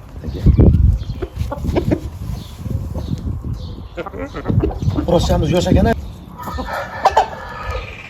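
Dakan breed hens and chicks on a farm yard clucking and calling at close range, with a rooster-like crow, mixed under ongoing conversation between men.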